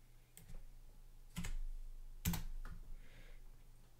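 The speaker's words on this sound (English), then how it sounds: "so I'm just gonna type it in." Several distinct clicks of typing on a computer keyboard, spaced irregularly and fairly quiet against a faint steady hum, with no voices.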